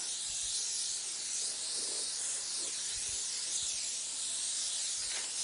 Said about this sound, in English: I play with the air pressure and the fan pattern at this stage, and distance from the nozzle to the vehicle